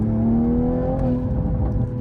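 A Toyota Supra engine pulls hard at full throttle with traction control off, giving a loud, steady droning roar with a slowly rising pitch.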